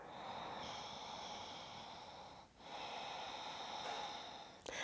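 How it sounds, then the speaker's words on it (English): A steady, close breath drawn in through the nose and slowly released during a yoga flow, airy and continuous with a brief pause midway, no talking. "We're going to take a deep breath in here and a deep breath out."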